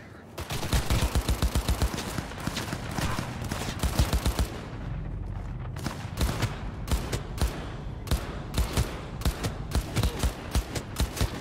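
Rapid bursts of automatic gunfire in a Cyberpunk 2077 firefight, loud and dense with repeated sharp volleys and a brief lull midway, continuing in a steady rhythmic rattle toward the end.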